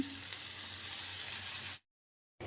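A brinjal curry in a pan sizzles after water is poured in, giving a steady, close frying hiss that cuts off abruptly into silence, then briefly returns.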